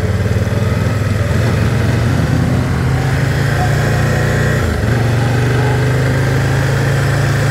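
A vehicle engine drones steadily and loudly on a ride through the town streets of Stanstead, Quebec, a continuous close hum with no break and no talk.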